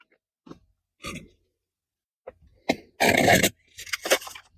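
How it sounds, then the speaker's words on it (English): A deck of playing cards from a 2024 quest calendar is shuffled by hand, a few short papery riffles and snaps separated by pauses, with one louder burst of rapid flicking near the end. "maybe let's try to shuffle it."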